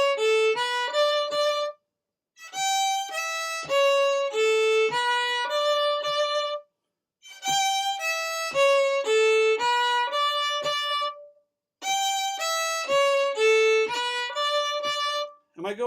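Solo fiddle plays the closing phrase of an Acadian tune's A part, in a Quebec/Acadian fiddle class: clear bowed melodic runs in three bursts separated by brief pauses, close and alone with no talking.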